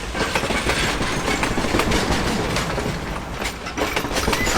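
A train rolls past close by, loud and steady, its wheels clattering in a rapid rhythmic clickety-clack over the rails.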